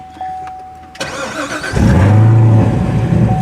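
A 2019 Corvette ZR1 engine starts after a short crank, catching loudly and settling into a deep, steady idle, close to the car and with no talk.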